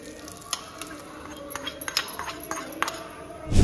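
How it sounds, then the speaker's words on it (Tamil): Cashews and raisins frying in ghee in a pan, a soft sizzle broken by scraping stirs and faint clinks of a spoon, close by, ending in a louder clatter. "நான் கொஞ்சம் நெய் ஊத்தி இந்த முந்திரி திராட்சை வறுத்து இதெல்லாம் போட்டுக்கிறேன்"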